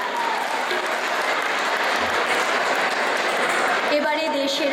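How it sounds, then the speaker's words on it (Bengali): An audience at a Bangla school pitha festival claps in a steady, dense wash of applause that holds throughout, with a brief voice and faint tones near the end. "আসুন আমরা জোরে হাততালি দিয়ে তাদের আরো একবার অভিনন্দন জানাই।"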